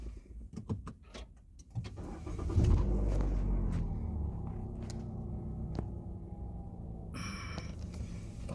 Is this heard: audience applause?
no